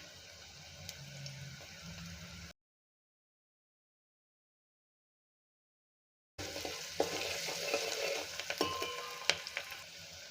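Onion frying in oil in a pan for a dill leaf (shepu) vegetable dish, heard as a soft steady sizzle that drops out to silence midway, then returns louder with crackles and spatters.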